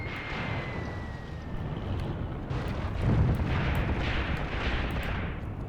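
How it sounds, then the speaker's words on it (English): Rapid machine gun fire rattles in a World War II North African battle video game, with bursts of muffled, rumbling shots heard from some distance amid a dense, continuous din of combat. "Those machine guns are working overtime, boys."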